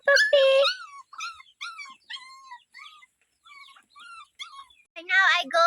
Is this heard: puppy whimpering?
yes